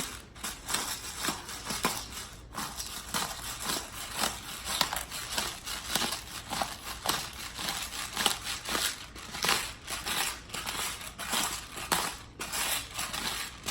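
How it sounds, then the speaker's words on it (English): A coarse pepper grinder crunches peppercorns over thick ribeye steaks in a continuous gritty crackling, close and steady with brief pauses, no one speaking. "This is also a very coarse ground pepper grinder too."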